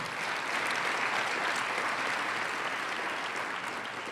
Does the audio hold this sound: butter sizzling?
no